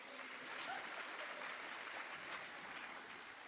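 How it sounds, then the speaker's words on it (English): Students and families at an 8th grade recognition ceremony applaud for a student named Lacey, a soft, even patter of clapping that sounds distant in the room and carries on without a break. "Everybody applause for Lacey"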